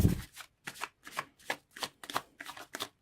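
Tarot cards being shuffled by hand in a series of about eight quick riffling bursts, evenly spaced and close, with a brief low thump at the start and no talking.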